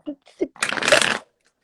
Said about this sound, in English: she's shuffling them